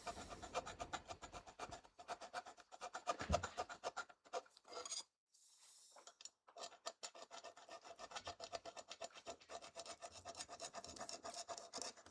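A fine file rasps against metal on an Audi 1.8T engine in a garage, rapid rhythmic scraping strokes close by, stopping briefly midway before resuming steadily.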